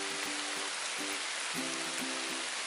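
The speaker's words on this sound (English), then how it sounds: "it's literally just started to pour with rain" Heavy rain pours down outdoors in a garden, a steady dense hiss of drops on surfaces that fills the whole stretch without pause.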